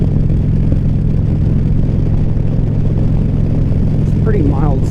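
Motorcycle engine on a commute ride, a steady loud drone with wind rush throughout, with no change in pace.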